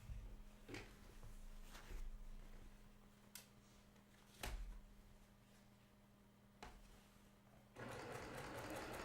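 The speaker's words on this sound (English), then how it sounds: "And now I'm going to sew this" A sewing machine stitches a quilt seam with a steady mechanical hum, punctuated by clicks and knocks as the machine stops and starts, then a brisk burst of fast stitching at the end.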